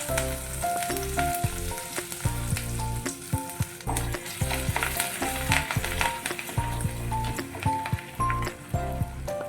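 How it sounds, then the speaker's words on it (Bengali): Spices and grated ginger frying in a pan, meant for a jackfruit kebab snack, make a continuous crackling sizzle with scattered sharp pops, under steady background music. "একে একে আমি সব মশলাগুলো একটু সামান্য কষিয়ে নেব"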